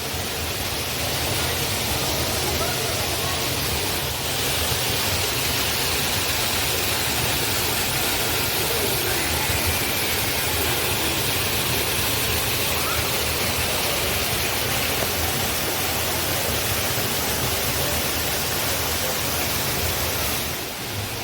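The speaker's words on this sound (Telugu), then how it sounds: "ఇక్కడ ఇందాక వాటర్ ఫాల్స్ ఉంటాయని చెప్పాను కదా, ఇలా వాటర్ ఫాల్స్ అన్నమాట" Falling water from an artificial indoor waterfall in a butterfly conservatory roars in a constant, dense hiss, unbroken and fairly loud throughout, with no voices.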